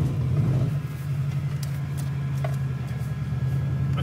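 A 2011 Subaru Impreza WRX STI with Perrin parts idles with a steady, low, throbbing engine rumble, close and constant with no talking.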